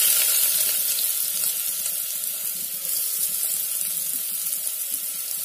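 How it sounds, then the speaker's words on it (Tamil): Two large finely chopped onions frying in oil in a clay pot, giving a steady broadband sizzle that stays even and fairly loud throughout, with no talking. "இப்ப இந்த வெங்காயத்தை இதில் சேர்த்துக்கலாம்."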